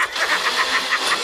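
Race car engine starting and revving, a loud near rumble with rapid pulsing bursts, heard alone without speech.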